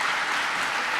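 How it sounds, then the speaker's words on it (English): Muffled applause from an audience at a talk, a brief, even wash of clapping that stays constant without breaks or voices. "a muffled clap for the second point is probably very good"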